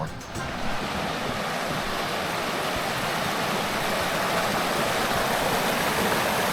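A rushing mountain stream on Mount Bierstadt flows with a dense, steady roar, close and constant, with a breathy wash of wind noise and no voices.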